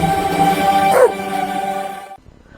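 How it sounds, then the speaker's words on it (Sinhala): Several dogs in a garden give a strained, drawn-out cry that wavers and swells near the middle, then cuts off abruptly, leaving a faint quiet tail. "බල්ලෝ බිරුවට ගණන් ගන්න එපා."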